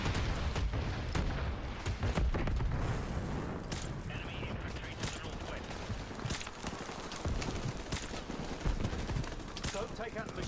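Sustained gunfire in Call of Duty Modern Warfare Remastered, with overlapping bursts and single cracks both near and distant, continuous throughout, and a voice talking at times underneath.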